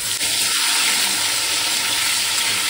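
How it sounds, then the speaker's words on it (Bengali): Pointed gourd and potatoes fry in hot oil in a pan, giving a loud, steady, close sizzle that hisses continuously without pause. "ওই জন্য প্রথমে পটল আলু হালকা করে ভেজে নেবো, এর মধ্যে এক এক করে সব সবজি অ্যাড করে দেবো।"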